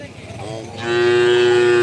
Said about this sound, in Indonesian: ini juga ada sapi kecil guys